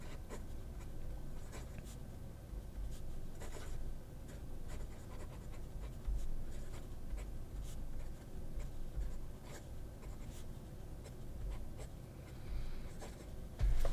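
A fountain pen fitted with a Schmidt broad nib scratches softly across paper in faint, steady strokes, close and quiet with no talking.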